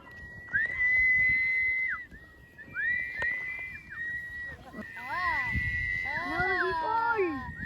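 A person whistles long, steady notes interrupted by bending, warbling slides, loud and close, with some voices in the background.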